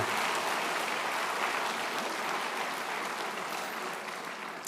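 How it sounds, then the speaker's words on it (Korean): A large crowd at an evening winter camp church service applauds loudly and steadily, a dense wash of clapping that holds for several seconds and fades slightly at the end. "다시 한번 큰 박수 보내주시기 바랍니다."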